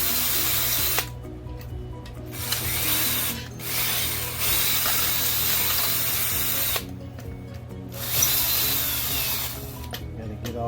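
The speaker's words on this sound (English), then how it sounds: "Gotta get all those extra burrs off." Drilled holes in metal being deburred with a power tool while building a porta-boat dolly, a close buzzing, ratcheting whir in several bursts separated by short pauses.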